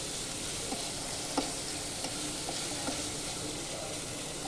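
Tomato goes into a pan of broad bean curry and gets stirred, making a soft continuous sizzle with light spoon taps and scrapes at intervals.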